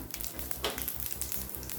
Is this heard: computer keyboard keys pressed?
no